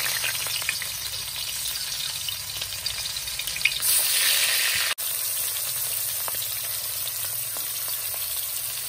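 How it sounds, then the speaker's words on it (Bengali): Pangas fish pieces fry in hot oil in a wok, a dense, steady sizzle close by that continues throughout with a brief louder crackle and a momentary break midway. "এখন মাছগুলো ভেজে নেব।"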